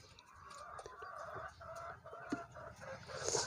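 A broody hen gives soft, repeated low clucks close by, in a short quiet run with a slight rise near the end.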